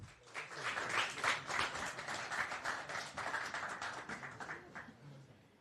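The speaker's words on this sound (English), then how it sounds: "Then give a big round of applause for schedule." An audience claps for a team at a demo event, a dense burst of handclaps holding steady for several seconds at moderate distance with no talk over it.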